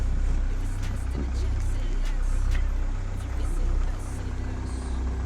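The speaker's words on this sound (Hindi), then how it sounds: "तो भाई गाड़ी करते हैं स्टार्ट।" A 2020 Mahindra Thar diesel engine idles just after a cold start following an overnight snowfall, a steady low rumble that stays loud and close, with faint voices now and then.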